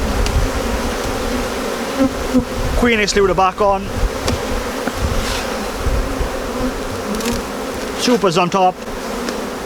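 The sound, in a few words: honey bees buzzing during hive inspection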